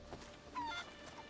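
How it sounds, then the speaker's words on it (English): A chicken clucking in Assassin's Creed Odyssey, a few faint, short squawks and clucks in quick succession, quiet and heard alone. "Why is this chicken fighting me?"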